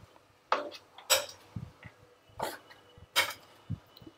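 A spoon clinks and scrapes against a bowl while ghee is stirred into a ravva laddu mixture, several short irregular taps and scrapes close by, with soft low thumps between them and no talking.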